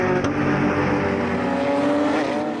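Race cars, among them a Porsche, roar past on the Nogaro circuit with a loud, sustained engine note that climbs and shifts as they pass close by.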